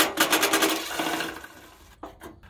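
A power driver runs an 8mm self-tapping screw into the bottom of a Jeep Cherokee XJ fender flare, a short close buzzing whir that fades, followed by a brief second burst.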